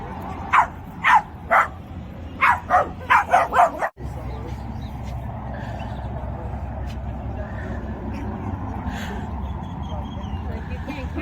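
Dogs at a dog park, including a chihuahua, bark in a quick run of sharp, close barks and yips for a few seconds, then steady outdoor background noise follows.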